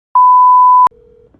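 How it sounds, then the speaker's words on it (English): An outgoing phone call: one loud, steady electronic tone cut off by a sharp click, then a fainter lower tone, alone without talk. "So let's call him."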